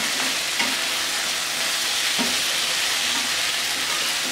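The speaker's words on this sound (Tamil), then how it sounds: "ஃப்ரை பண்ணிக்கலாம்." Gobi fried rice sizzling and being stirred in a pan, a steady loud frying hiss with a few sharp scrapes of the spatula at intervals, no voices.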